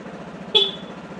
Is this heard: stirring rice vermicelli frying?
no